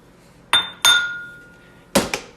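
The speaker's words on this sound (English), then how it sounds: "Put the lid on." A lid set onto a crock pot gives two sharp ceramic-and-glass clinks followed by a ringing tail, then another clatter and a smaller knock as it settles, close and alone without talk.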